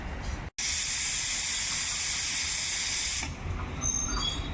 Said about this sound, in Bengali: এবার প্রেসারের 2টো সিটি হওয়া পর্যন্ত অপেক্ষা করব